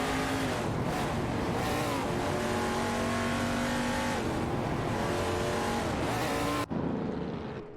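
Three racing-game cars, tightly packed into a turn, drone loudly with layered engine whines whose pitch sweeps as they brake and accelerate. The noise cuts off abruptly near the end.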